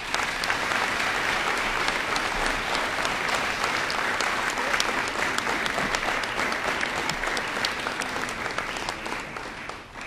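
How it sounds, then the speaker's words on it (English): Steady, dense applause from an audience at a spring signing event honoring seven kids, continuous and fairly loud for about ten seconds, tapering slightly at the end. "Give them a huge round of applause"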